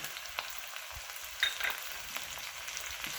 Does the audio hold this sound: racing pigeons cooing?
no